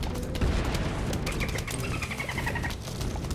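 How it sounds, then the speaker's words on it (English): Dense explosion blasts from the video game Plants vs. Zombies fire in a continuous, crackling barrage, loud and close, with booms overlapping through the whole stretch. "And another explosion."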